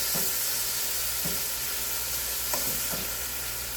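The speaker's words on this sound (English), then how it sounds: "what you're doing is locking in all the juices while you're searing it" Pork sears in a hot pan for a stew, giving a steady, dense sizzle with a few soft clanks as the meat is stirred and pushed aside, close and even throughout.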